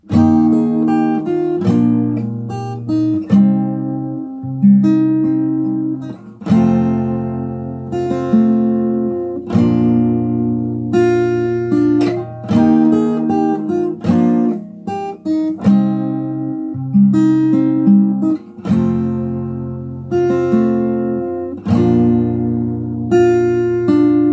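Acoustic guitar strumming a chord progression, bright strums repeating in a steady rhythm with the chords changing every few beats, played alone.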